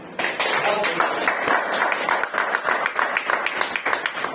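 An audience at a Vestige company anniversary gathering claps together in a dense, lively round of applause, with voices mixed in beneath the clapping.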